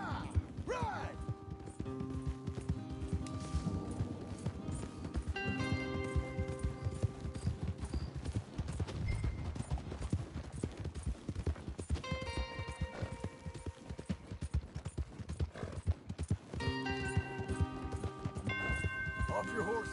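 Horses galloping in Red Dead Redemption 2, with steady rapid hoofbeats running throughout over game music and effects, and occasional voices talking above the pounding rhythm.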